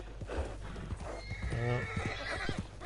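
A horse in the video game Red Dead Redemption 2 gives a loud, close whinny in the middle, surrounded by the clopping of hooves and faint background noise.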